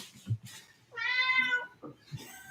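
A house cat lets out a single drawn-out meow close by, set between short snatches of people talking and cheering.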